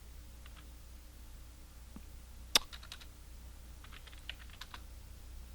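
A command is typed on a computer keyboard while setting up Windows Server 2008: a few soft keystrokes come in two short bursts, with one sharper click between them, faint and close with no talk.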